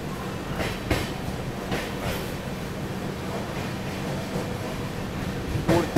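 The Tirumala Express pulls out from platform 1 at Ongole station, a steady rolling rumble with periodic clacks of wheels over rail joints and a sharper knock near the end, with no talking.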